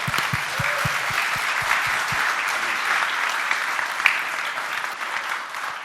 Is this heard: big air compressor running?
no